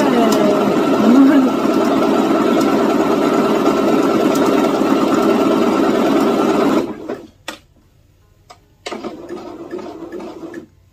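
A Pfaff E-Element C1105 sewing machine runs a tie-off stitch with a loud, steady motor hum and needle chatter for about seven seconds, stops, then gives a couple of short follow-up bursts.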